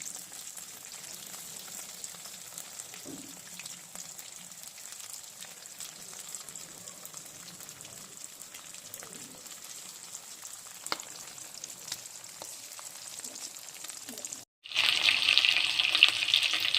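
Bone-in chicken pieces for chilli chicken fry in hot oil until reddish: a steady, close sizzling hiss runs throughout, and a brief cut near the end gives way to a louder, fiercer crackle.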